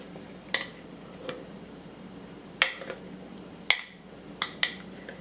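Sourdough starter being stirred with water and flour: a few sharp clinks of a utensil against a bowl, spaced irregularly and fairly faint, with soft scraping between them.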